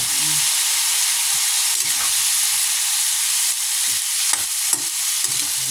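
Pansit miki noodles stir-fried in a hot pan give a steady loud sizzle and hiss, with occasional scraping stirs of the spatula breaking through, close and continuous without talk.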